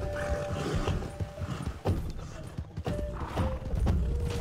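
Horse hooves clip-clop steadily in a video game, a rhythmic trot running through the whole stretch alongside occasional whinnies and game sounds.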